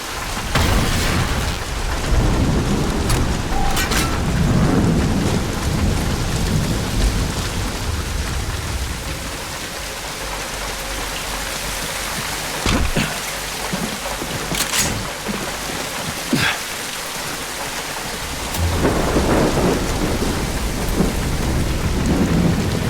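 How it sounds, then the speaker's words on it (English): Pouring rain roars without a break in the video game The Bureau: XCOM Declassified, with sharp thunder cracks at a few points. The rain is loud, close and dense and runs the whole time, easing a little in the middle. "Falk sends you out in the pouring rain and won't even tell you what you're after."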